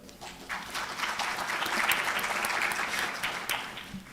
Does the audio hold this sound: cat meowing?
no